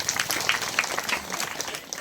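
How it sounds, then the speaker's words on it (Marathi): Audience applause at a Marathi gathering, steady dense clapping from a crowd throughout, fairly loud and continuous with no voices over it. "टाळी वाजवा"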